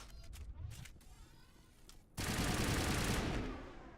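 An assault rifle firing high explosive rounds in Mass Effect 1 starts with a few scattered shots, then a sudden loud, sustained blast of explosive noise that rumbles for over a second before fading.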